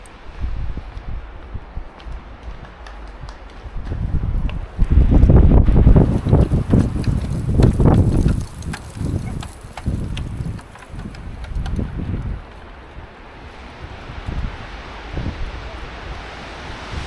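Strong wind buffets the microphone in rumbling gusts on an empty road in Akşehir, Konya, swelling loudest in the middle before easing back to a steady roar.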